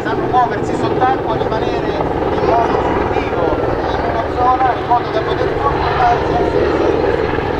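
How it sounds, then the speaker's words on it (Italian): Twin-engine SH-101 military helicopter flying at an air show, its steady rotor and turbine drone continuous and loud throughout while someone narrates over it. "Questo è un elicottero bimotore"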